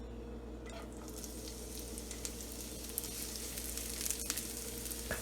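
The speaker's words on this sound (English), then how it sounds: "it's going to go in the pan with olive oil first" Diced onion fries in olive oil in a pan over medium heat, giving a steady, close crackling sizzle with scattered pops throughout, no voices.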